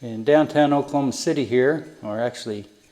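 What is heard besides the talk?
No everyday noises stand out.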